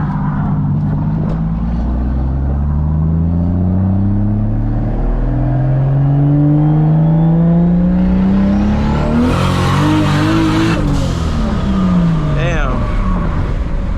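A straight-piped Toyota Supra under 20-plus pounds of boost revs loudly, its pitch climbing hard through the gears and peaking near the end before easing off, heard from inside the car.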